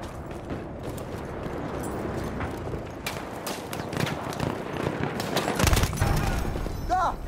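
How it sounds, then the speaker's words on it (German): Machine gun fire rattles in a WWI video game battle, with rapid bursts over a dense din of battlefield noise that grows louder toward the end. "Da, ein Maschinengewehr."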